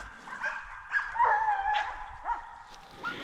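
Hunting dogs bark in repeated bursts during a Spanish driven hunt (montería) in Extremadura, a chorus of mid-distance yelps and bow-wows, some whimpering, over steady outdoor background.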